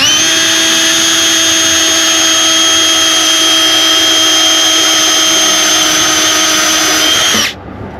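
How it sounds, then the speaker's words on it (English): A power drill bores a 20mm hole in the bottom of a roto-molded bucket for a V Marine roto mount, giving one loud, steady, high whine that holds for about seven seconds before stopping abruptly. "you're going to drill your 20mm hole in the bottom of the bucket"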